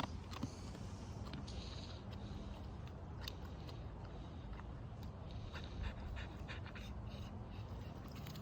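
A German Shepherd dog panting close by in a steady, rapid rhythm, with faint clicks and shuffling beneath a continuous noisy background.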